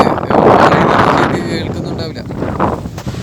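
Strong wind buffets the microphone at the Munderikadavu bird sanctuary in Kannur, a loud, rough rush that eases slightly partway through, with a person talking underneath.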